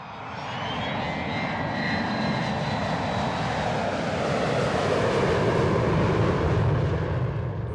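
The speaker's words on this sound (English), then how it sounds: "All 133 feet of the Boeing 727 was expected to touch down in Merrill Field's very small and challenging locations." A FedEx Boeing 727 jet landing at Merrill Field gives a loud, sustained engine roar and whine that holds steady and swells slightly over about eight seconds, with no talking.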